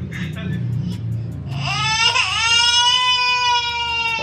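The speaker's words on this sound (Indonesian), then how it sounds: "Suara bayi sih" A baby cries close by, starting with whimpers that swell into a loud, sustained wail, with background noise underneath.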